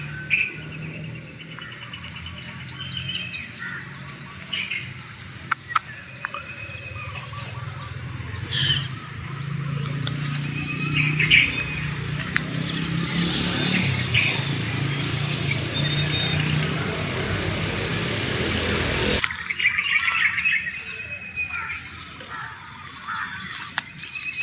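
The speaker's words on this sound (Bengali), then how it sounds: "আপনারা শোনেন কোকিলের ডাক," Koel cuckoos and other birds call in the morning outside a home, with scattered chirps and calls over steady background ambience, occasional sharper notes, and no talking.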